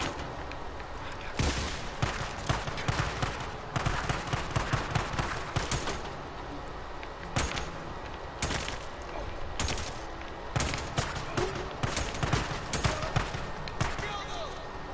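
Bursts of rapid gunfire in the video game Days Gone crackle repeatedly at close range, with voices talking over the shooting.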